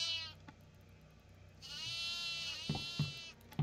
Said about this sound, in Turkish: Erken orayı kapat da keçiler, keçiler o aşağıdan kaçmasın.